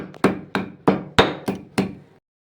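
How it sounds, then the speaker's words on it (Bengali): Ginger being crushed for shukto dal with six heavy, evenly spaced thuds, each close and loud with a short decay, then silence. "আদাটাকে আমি একটু থেতো করে নিচ্ছি।"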